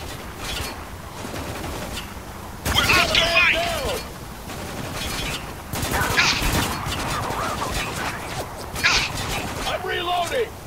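Heavy gunfire in the video game Spec Ops: The Line, with loud bursts of rapid shots arriving in several waves. Game voices shout over and between the volleys.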